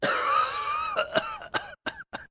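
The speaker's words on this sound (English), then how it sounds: "Kick out mucus and quiet the cough" Several harsh coughs in a row, starting with a sustained raspy cough and breaking into short, separate bursts with brief silences between them.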